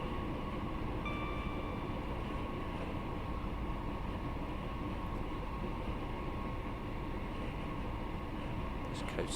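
Diesel ScotRail Class 158 Sprinter train coasting at speed between Edinburgh and Glasgow in Train Sim World 4, a steady low rumble and rail hum with a faint tonal whine, continuous and even throughout with no talk.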